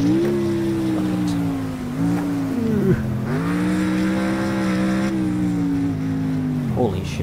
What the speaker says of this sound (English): I do love the roar of the engine.